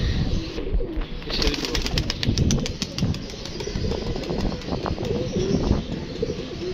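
Pigeons coo and flutter nearby, with wing flaps and soft bird calls over a steady rustling background, no talking.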